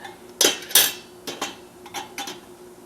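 A spoon stirring cumin seeds frying in a pan, several sharp metallic clinks and knocks against the pan, two strong ones early followed by lighter taps, with faint background hiss in between.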